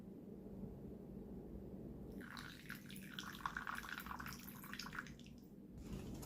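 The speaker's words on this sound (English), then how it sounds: "pouring in some hot water" Hot water pours steadily into a bowl of sugar for dalgona coffee for a few seconds, a splashy, bubbling stream close up over a low background hum.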